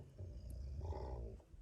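A low, rumbling dog growl rolls on steadily at moderate volume, rising briefly in intensity near the middle.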